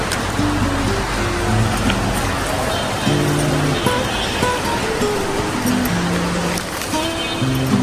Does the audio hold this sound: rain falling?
yes